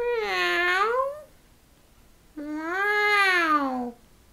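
A storyteller's voice imitates a cat meowing twice, two long drawn-out meows separated by a short pause, close and clear with no other sound.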